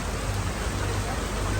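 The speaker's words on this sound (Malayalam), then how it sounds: "നല്ല ഇടിമഴ" Heavy thunderstorm rain pours in a steady, dense hiss with no pauses, loud and continuous throughout.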